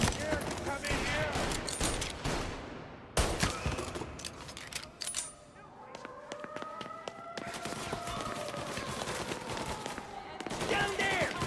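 Dense bursts of gunfire in the video game Mafia Definitive Edition, rapid volleys of shots broken by short gaps, with voices shouting amid the shooting.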